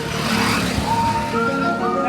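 A stalled car is pushed by hand to get it started, and a steady, close engine drone with rising whine comes through briefly, with no talk over it.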